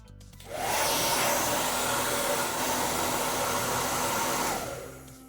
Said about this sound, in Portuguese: para acelerar o processo aqui de secagem, eu vou agilizar isso aqui com um secador